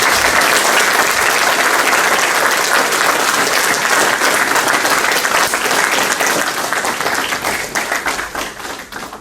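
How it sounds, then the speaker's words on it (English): A conference audience at a disability advocacy event gives loud sustained applause, dense continuous clapping that tapers off near the end. "they deserve a much bigger round of applause"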